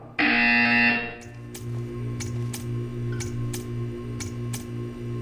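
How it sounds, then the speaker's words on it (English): Harsh electronic buzzer in the Portal 2 video game sounding once for about a second, followed by a low steady hum with a series of soft, evenly spaced ticks. "When you hear the buzzer, stare at the art."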